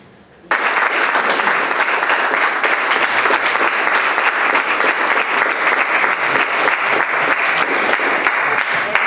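Sustained audience applause at a Portuguese book launch honouring José Afonso, dense steady clapping from a seated crowd that starts abruptly after a brief quiet moment and carries on evenly, close and loud, with no talking.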